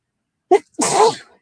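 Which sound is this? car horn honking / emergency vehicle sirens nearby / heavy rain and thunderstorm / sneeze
sneeze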